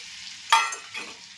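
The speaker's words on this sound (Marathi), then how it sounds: "थोडंसं छान फ्राय करून घ्या" Raw spices drop into hot oil in a pan for tomato soup, giving a sudden loud sizzle that fades, then a second softer burst of frying with no voices.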